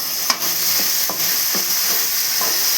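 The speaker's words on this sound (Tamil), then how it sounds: "அவ்வளோ நல்லா வதக்கி விடுங்க." Ingredients sautéing in oil for a spicy salna gravy: a loud, even sizzle with a regular beat of stirring strokes roughly every half second, close by and with no voices.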